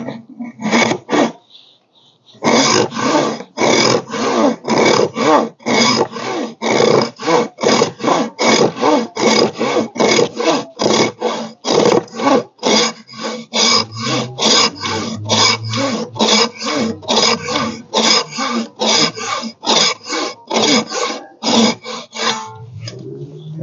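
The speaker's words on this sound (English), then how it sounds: "So I'll go ahead and then mostly rough it out with this saw" Hand saw roughing out wood for the forks of a traditional Californio saddle, a long run of steady rhythmic rasping strokes, loud and close, after a short pause at the start.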